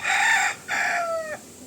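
A chicken, from a flock with a slate cock and a checkered hen, gives two loud, close crowing calls in quick succession, the second trailing off in a falling tail.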